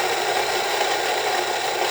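A Rancilio Rocky coffee grinder grinds beans with a loud, continuous, harsh whirring roar, steady throughout and close up.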